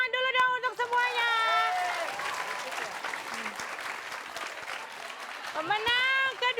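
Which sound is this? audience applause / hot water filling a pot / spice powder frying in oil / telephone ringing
audience applause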